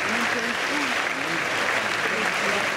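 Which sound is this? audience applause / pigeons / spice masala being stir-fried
audience applause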